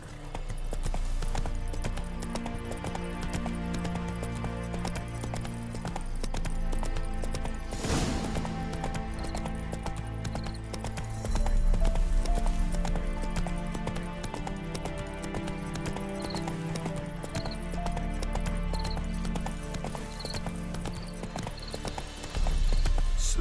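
Horse hooves clip-clop steadily at a gallop in The Witcher 3 game, running continuously over a dense orchestral music bed.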